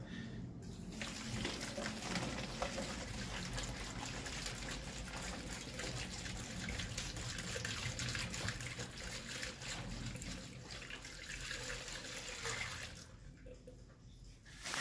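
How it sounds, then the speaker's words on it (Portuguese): A liter of Lysoform disinfectant liquid is poured steadily into a container for a homemade portable toilet mix, producing a continuous soft splashing gurgle that lasts about twelve seconds before tapering off. "Já vou colocar aqui o lisoforme, ó. Um litro de lisoforme."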